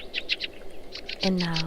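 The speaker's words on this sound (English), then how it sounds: "You hear the birds chirping" Birds chirp outdoors in short bright bursts, a repeating twitter heard at moderate distance, with a voice speaking briefly over the last half.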